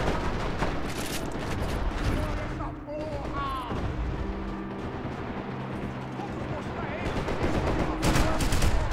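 Gunfire in Max Payne 3 multiplayer team deathmatch: dense bursts of shots and booms at varying distances, with a voice talking over the noisy firefight.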